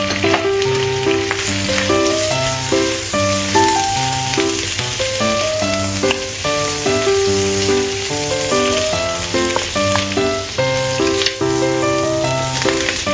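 Black fungus sizzles with prawns in a hot pan, a loud, steady crackling fry that runs continuously and close up, with no talking.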